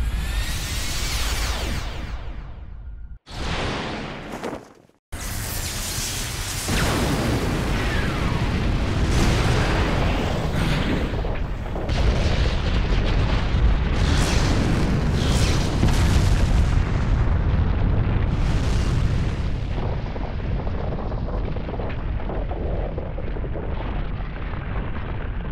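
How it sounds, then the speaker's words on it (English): A massive explosive blast in the video game Asura's Wrath: a loud, sustained roaring boom that briefly cuts out, then thunders on for over twenty seconds as a dense, rumbling wall of sound. "Let this blast herald the coming of a new world order."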